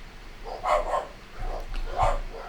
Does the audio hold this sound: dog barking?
yes